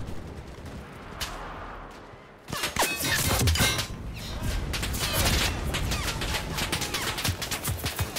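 Gunfire in the World War II shooter game Enlisted: a lone early shot, then dense sustained bursts of rifle and machine-gun fire crackling loudly and continuously over rumbling battle noise.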